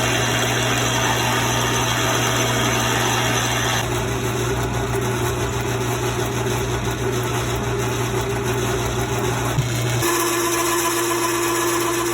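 A metal lathe turns small steel bushings in a shop, a steady loud motor whine with a constant hum that shifts pitch partway through and continues without a break.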